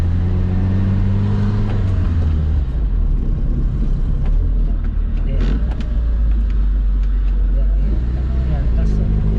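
A Volvo P1800S engine drones low and steady while driving in second gear, a continuous close rumble from inside the car with people talking over it.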